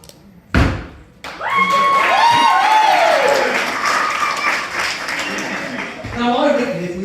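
A live show audience at a holiday caravan park breaks into applause and cheering right after a sharp thump, clapping and raised voices holding for several seconds before tapering off.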